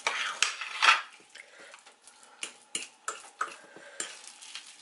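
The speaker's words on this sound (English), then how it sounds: "Get all that mixed up in there." A utensil scraping and clinking against a bowl while mixing ingredients for twice-baked sweet potato rolls, a string of close, sharp ticks and knocks at an uneven stirring rhythm.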